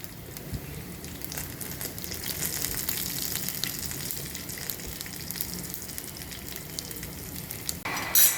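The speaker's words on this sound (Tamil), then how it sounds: "இப்போ நிறைய போட்டுட்டு இது நல்லா ஃப்ரை ஆகட்டும்" Broken urad dal frying in plenty of hot oil for a potato fry, giving a steady close sizzle and crackle that holds evenly throughout, with a brief louder clatter at the very end.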